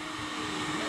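A heat gun blows hot air onto kayak plastic ahead of a weld repair, a brief steady fan-driven whoosh with a constant tonal hum, close and even.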